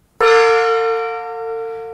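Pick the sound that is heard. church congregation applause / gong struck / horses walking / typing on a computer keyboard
gong struck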